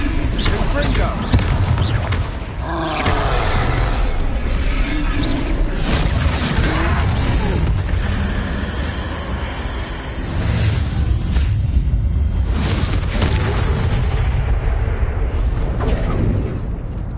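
Confringo blasting spell detonating during a troll fight in Hogwarts Legacy, a run of loud, booming fiery explosions over dense, continuous combat noise, with a voice speaking briefly.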